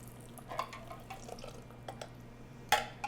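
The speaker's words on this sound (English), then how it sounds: "So now I'm just going to add my milk." Milk is poured into a pot of macaroni and cheese in a home kitchen, a soft liquid trickle with scattered drips and light clinks of cookware, close and fairly quiet.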